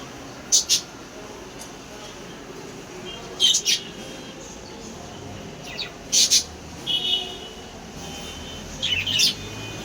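Two pet birds chirping, sharp high bright chirps in short clusters about every three seconds, close and clear above a quiet hissy room background.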